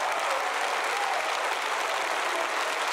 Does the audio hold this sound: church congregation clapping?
yes